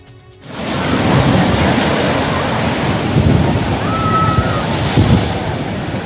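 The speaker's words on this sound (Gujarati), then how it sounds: "અરબી સમુદ્રમાં ભારે કરંટથી 15 થી 20 ફૂટ ઊંચા મોજા ઉછળ્યા" Rough Arabian Sea off Dwarka whipped by strong monsoon winds and currents, a loud continuous roar of surging surf and wind buffeting the microphone, swelling in a few heavier crashes.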